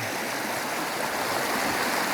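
River water streams steadily past rocks at a rural wildlife refuge, a constant close rushing wash with no pauses and no other sounds.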